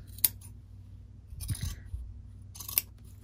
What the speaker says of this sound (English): So I'll trim all of these up.